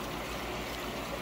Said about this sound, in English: I'm using the Whisper 60 filter here